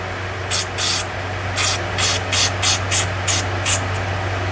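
Carb cleaner sprayed into a chainsaw carburetor in short hissing bursts, about nine quick sprays in an uneven rhythm, close and loud over a low steady hum.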